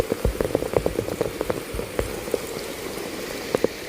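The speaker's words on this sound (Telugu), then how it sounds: "కొండ సొరికల్లో నుండి వస్తున్న వాటర్." Water trickling and dripping from crevices in hill rock on a Kondagattu hill pilgrimage path, heard as steady splashing with irregular droplet pops close by, with no voices.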